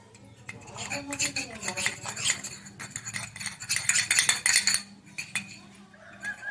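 Small toy kitchen utensils clink and scrape against miniature pots while pretend vegetables are cut, a busy run of light metallic taps and rattles close by with no talking.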